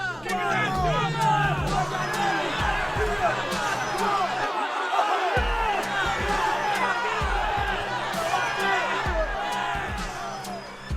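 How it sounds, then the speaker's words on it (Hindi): A violent mob storms a palace at night in an audio drama: a dense, loud crowd roars and shouts continuously with whoops and running chatter, briefly dropping in the low end midway, overlaid with effect sounds. "एक रात्रि हिंसक भीड़ ने विदूषक के महल पर धावा बोल दिया।"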